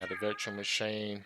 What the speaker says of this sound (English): Whoa, there's my cat, if you can hear him in the background.